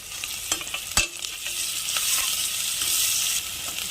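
Onions with green chillies sautéing in a pan for a Tamil green gram dish, a steady close sizzle of frying with a few sharp stirring clicks near the start, no voices.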